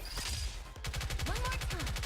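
Rapid automatic gunfire in Honkai Star Rail: a brief ambient lead-in, then a loud, fast, even stream of shots to the end, with a voice talking over the barrage.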